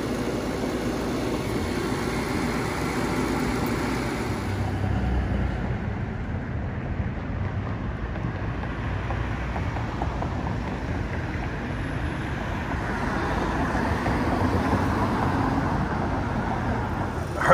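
A beer walk-in cooler's refrigeration unit runs while flooding back and failing to keep the box cold, giving a loud, steady, close broadband whir and rumble that holds without a break throughout.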